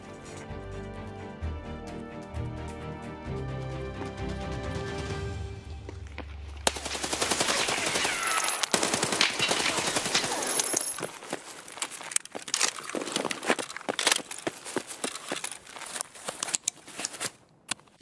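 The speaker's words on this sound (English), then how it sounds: "It was definitely scav shooting me, not another squad." Automatic gunfire from an AI scav in Escape from Tarkov, sustained bursts of rapid, loud shots with clattering impacts, with no talk.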